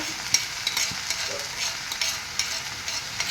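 Beaten egg sizzles and fries in a pan with ivy gourd (kovakka) over a low flame. The crackle is steady and bright, with small stirring clicks close up and no voices.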